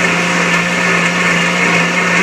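An Omni blender whirs steadily at high speed, blending a shake with ice chunks, loud and continuous with a constant motor hum and no pauses or talk.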